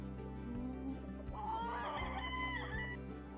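Gamefowl roosters, stags and cocks on a game farm crow in a clear drawn-out call over a steady low mechanical hum, at moderate distance, with no talking.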